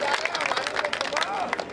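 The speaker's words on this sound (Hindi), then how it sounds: "आप लोगों को अच्छा लगा हो मुक्तक तो एक बार जोरदार तालियां बजाइए।" Applause from the crowd at a Hindi comic poetry gathering, a brisk patter of many hands with voices and cheering mixed in underneath.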